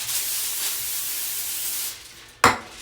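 Cooking spray hisses onto aluminum foil laid matte side up over a lasagna, a steady close spray lasting about two seconds, then a brief pause and one short sharp burst.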